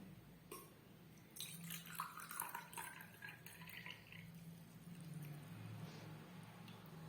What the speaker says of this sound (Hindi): एबे कलसी रे मुई पानी ढालमी